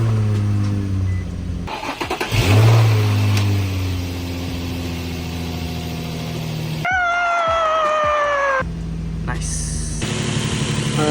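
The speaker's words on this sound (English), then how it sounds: "Let's get a cold start." A car engine cold-starts after a cheap eBay intake install, cranking and catching into a steady idle with a brief rev, close and loud, with some talk over it.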